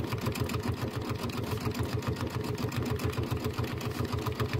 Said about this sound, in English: So let me go ahead and top stitch.